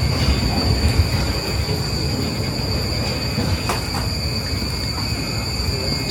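Metro train at a Tokyo subway platform on a snowy morning, a steady close rumble of railcars with faint wheel squeals and high-pitched electrical whine, running continuously throughout.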